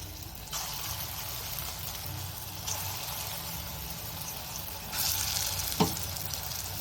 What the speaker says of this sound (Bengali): দেখুন, আমি এই কড়াইয়ের মধ্যে, এই তেলের মধ্যে আমি পকোড়াগুলোকে ভেজে নিচ্ছি।